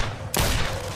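A single sharp gunshot blast from a sound effect in an audiobook, loud and sudden, followed by a rumbling, noisy tail.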